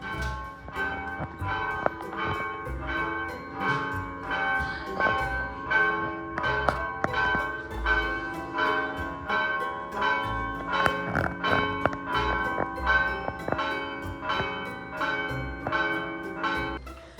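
Church bells in Guatemala peal continuously in a fast, repeating rhythm, loud and close, with dense overlapping strikes and ringing tones throughout.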